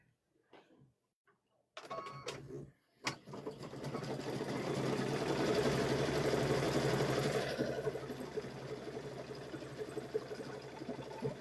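After a few faint bumps and clicks, a sewing machine runs continuously while stitching a quilted tote bag design, a steady mechanical whir that swells and then settles slightly, close and moderately loud.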